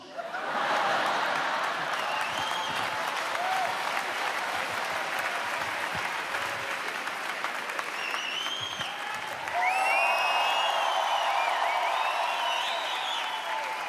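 Audience at a Malik Bentalha stand-up comedy show applauding steadily, a dense sustained wash of clapping with scattered laughter and chuckles, swelling louder toward the end with whoops and whistles.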